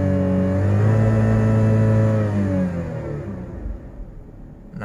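A Daihatsu Rocky engine revs up strongly while stationary, its rising then falling harmonic whine holding for a couple of seconds before easing back to a lower idle rumble.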